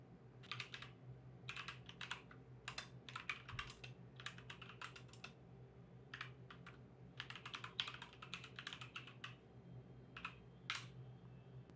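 Someone types an SQL statement on a computer keyboard in quick bursts of clicky keystrokes with short pauses between them, close and alone over a faint background hum.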